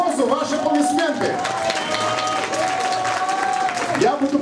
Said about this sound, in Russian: Нашему завхозу ваши аплодисменты.